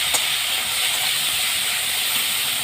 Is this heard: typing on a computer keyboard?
no